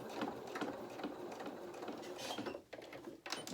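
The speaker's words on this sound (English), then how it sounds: "we're going to carry on down to the waist seam and reverse at the end" Sewing machine stitching the underarm seam of a small doll dress, a steady quiet mechanical whir with rapid needle ticking, close and continuous, faltering briefly near the end.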